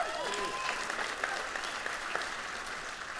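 An audience at a leadership breakout session clapping with thin, scattered applause, a steady patter of hands with a few sharper claps, and some voices murmuring underneath.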